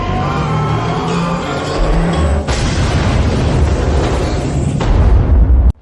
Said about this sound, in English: At 1:23 and 44 seconds, reactor number 4 exploded